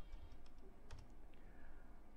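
Keys tapping on a computer keyboard, a short run of soft, quick clicks, close and faint against a low background hum.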